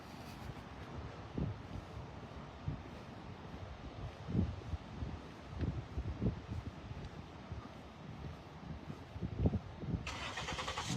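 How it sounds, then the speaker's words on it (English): A car engine starting close by outdoors, heard as a low, uneven rumble with several rough surges over about eleven seconds, mixed with wind and background noise and no talking. "A car is starting right next to me. Did you hear it?"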